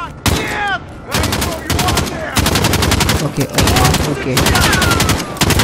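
Loud, close automatic gunfire from the video game Call of Duty crackles in rapid repeated bursts with short pauses between them, and a voice briefly speaks over it.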